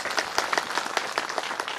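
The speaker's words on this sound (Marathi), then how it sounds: "सगळ्यांसाठी एकदा टाळ्या उद्या" An audience applauding at a Bhagavat katha kirtan, a dense burst of many hands clapping together at a steady level, fairly close and without voices over it.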